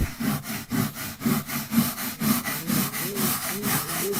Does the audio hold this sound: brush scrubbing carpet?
yes